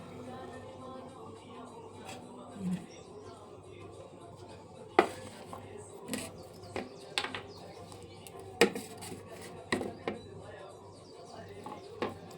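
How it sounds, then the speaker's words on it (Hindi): A knife cutting a papaya in a home kitchen, giving scattered soft chops and taps against a board, some sharp clicks among them, with faint background noise. "जा रही पपीता काटने"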